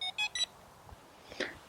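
A Feiyu Vlog Pocket 2 handheld gimbal gives three short, clear electronic beeps in quick succession on a button press, followed by faint handling noise.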